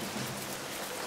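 A group of people rubbing their hands together to imitate rain makes a soft, even, continuous hiss, faint and steady with no talking.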